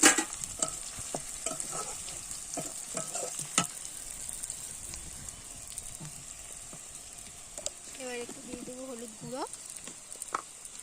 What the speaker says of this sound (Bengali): ভালো করে কষিয়ে নেব মশলাগুলো